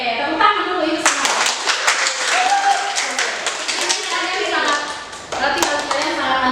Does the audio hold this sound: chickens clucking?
no